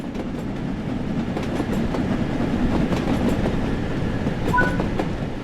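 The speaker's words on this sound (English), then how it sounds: "Let's prepare the train to slow down." Steam train in the video game Spirit of Steam running along the track and beginning to slow, a steady rolling rumble with rhythmic wheel clatter and a brief faint squeal, no talking.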